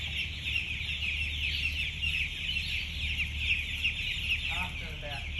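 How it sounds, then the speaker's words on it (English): Young Ross broiler chicks cheep continuously in a dense, high chorus inside a chicken farm, steady and moderately loud, with a low hum of barn equipment beneath and a brief voice near the end. "So many chicks around here."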